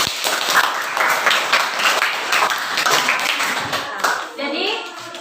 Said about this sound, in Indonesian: Coba tepuk tangan untuk diri kita semua